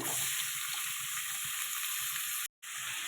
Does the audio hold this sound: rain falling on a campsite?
no